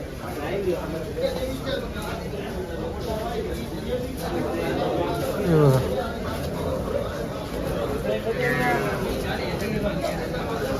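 A busy buffalo market in Dhule: dairy buffaloes low and moan amid steady crowd chatter and voices, with one deeper bellow standing out partway through.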